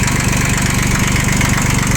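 A Yanmar YM1610 mini tractor's three-cylinder engine idles steadily up close, with an even low chugging rhythm throughout and no talk.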